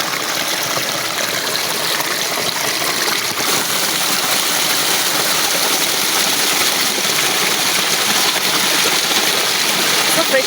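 Clear jungle stream water flows steadily and close by, a continuous bright rushing trickle that stays even in level throughout.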